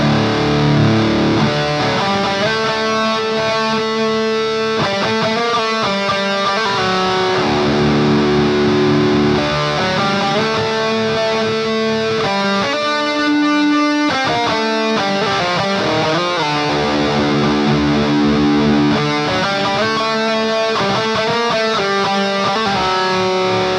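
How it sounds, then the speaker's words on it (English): Distorted electric guitar lead for rock and metal, played through an amp simulator plugin with a touch of delay and reverb, a continuous loud melodic line of sustained and bent notes with no talking. "this preset is one of my favorite presets for rock and metal lead tones. And it's got a little bit of delay and a little bit of reverb on it,"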